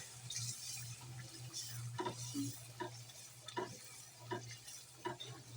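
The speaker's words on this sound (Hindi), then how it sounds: "अच्छी तरह से मिक्स कर देंगे।" Aloo palak, a spinach and potato curry, is stirred in a pan over steady sizzling, with repeated scraping, wet spoon strokes at close range and no talking.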